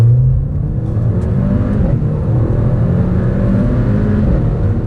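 A Mercedes A45 AMG hatchback engine pulls hard and steadily from 30 to 70 mph, rising in pitch as it accelerates, loud and close throughout.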